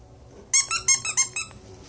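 A squeaky puppy toy gives six quick, bright squeaks in a rapid burst, close and clear, with no talking.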